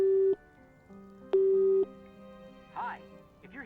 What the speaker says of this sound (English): I wonder if I phoned Joe instead of Frank.